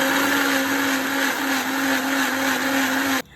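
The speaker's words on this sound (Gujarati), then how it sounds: "કેરી, ફ્રેશ ક્રીમ અને ખાંડ એ ત્રણે આપણે મિક્સરમાં સારી રીતે મિક્સ કરી લઈશું" A kitchen mixer blends mango, fresh cream and sugar, giving a steady, loud whirring drone that runs unbroken and then cuts off abruptly at the end.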